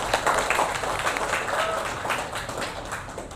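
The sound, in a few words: applause from class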